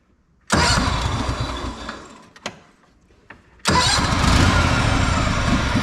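A Honda GXV 610 engine on a Honda 4118 mower starts on choke, runs roughly, dies, and then fires up again at once. The engine is loud and close, and settles into a steady, rough run.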